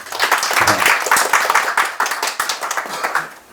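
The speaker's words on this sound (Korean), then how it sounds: "하숙집 아주머니 박수 한번 쳐줘요" A small indoor audience claps together for a landlady seated at the back of a talk, a dense, steady round of hand clapping that holds for a few seconds and tapers off at the end.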